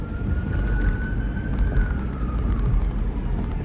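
An emergency vehicle siren wails from a distance on New Jersey's Route 80 amid heavy traffic, a single sweeping tone rising and falling over the steady rumble of a car's engine and road noise.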